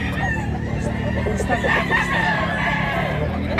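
A three-year-old rooster for sale crows amid a busy market scene, its call rising over a steady hum of background noise and nearby voices talking.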